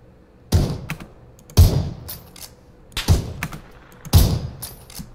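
Four sharp, loud gunshots ring out in a video game, spaced roughly a second apart, each a punchy close bang with a short decaying tail and small clicks between them.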